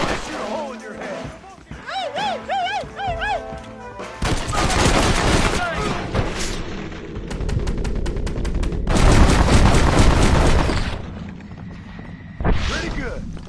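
Rapid gunfire from the western shooter game Red Dead Redemption, loud bursts and volleys of shots crackling over several seconds, with character voices talking early on and between the barrages.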